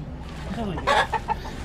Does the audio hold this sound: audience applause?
no